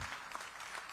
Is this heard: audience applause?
yes